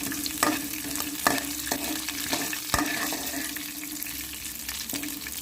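Okra frying in a pan with curry leaves, stirred with a utensil in steady scrapes and a few sharper knocks over a continuous soft sizzle, close and moderately loud, no voices.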